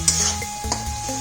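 Bay leaves and ground onion paste hitting hot oil in a pan for an egg malai masala curry, a close steady sizzle with a brief stirring scrape, loud and unaccompanied by talk.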